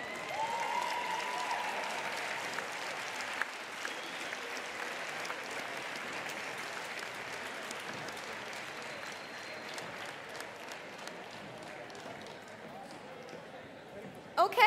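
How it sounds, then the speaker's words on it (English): Sustained applause from the crowd at the AWC 2018 large team jumping event, a broad continuous wash of clapping holding steady for many seconds with scattered louder claps, easing slightly toward the end. "Let's give them a huge round of applause again."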